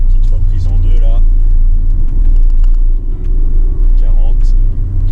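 A Ford Focus RS Mk3 with Stage 1 tuning pulls in second gear, its engine a loud, deep, continuous drone heard from inside the cabin, holding steady with a slight dip midway as it picks up speed.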